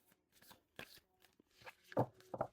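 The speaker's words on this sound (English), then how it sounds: "Let's give her another little shuffle here." Tarot cards being shuffled up close in quick, soft riffling bursts, ending with a couple of sharper flicks and taps.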